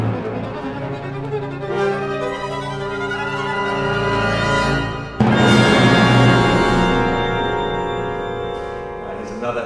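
An orchestral excerpt from Michael Norris's violin concerto 'Sama' forms dense, swirling sustained clusters that swell and then surge into a brighter, louder mass midway, full and close with no talk.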